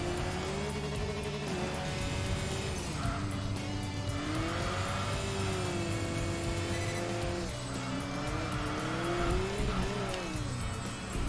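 Saab 9-5 Aero turbocharged engine in Enthusia Professional Racing, revving and accelerating through repeated gear changes with rising and falling pitch, steady and fairly quiet, with faint tire squeal and no talking.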